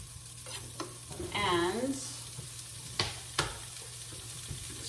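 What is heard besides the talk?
pancetta frying in a pan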